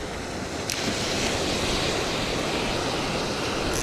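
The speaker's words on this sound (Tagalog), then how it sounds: "Sabayan natin yung alon na yan." Steady roar of ocean surf, broad and continuous, with wind rushing across the microphone; no voices, fairly loud throughout.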